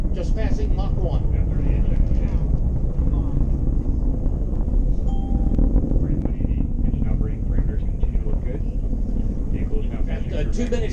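A rocket with two solid rocket boosters climbing through the sound barrier during launch, a loud, continuous, distant rumbling roar heard steadily throughout, with a commentator speaking over it.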